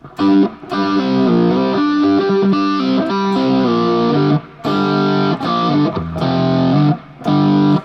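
A distorted electric guitar plays a quick repeating lick from a rock song in bursts with short gaps between phrases, loud and close, no talking.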